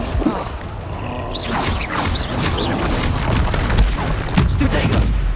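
Confringo spell explosions in the game Hogwarts Legacy, repeated booming blasts and crashes over a constant roaring battle din, loud and close, with spell effects whooshing between them.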